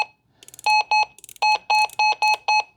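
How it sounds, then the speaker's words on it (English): Loud electronic beeps from a Retevis RT95 radio in a rapid series of two-tone pulses, sharp and close, with a few shorter chirps before and between them. "That's a very loud beep."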